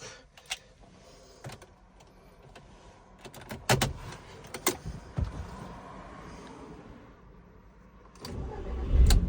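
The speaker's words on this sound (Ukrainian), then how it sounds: "машинка завелась, все добре" A 2000 Audi TT being started after key programming: door and lock clicks and clunks, then the engine cranks and catches near the end, rising into a louder running rumble.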